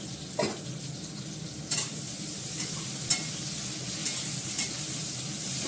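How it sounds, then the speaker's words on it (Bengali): Salted eggplant slices frying in oil, a steady soft sizzle broken by several sharp stirring scrapes spaced a second or so apart. "বেগুনটার মধ্যে হালকা করে একটু নুন দিয়ে এটাকে ভেজে ফেলি।"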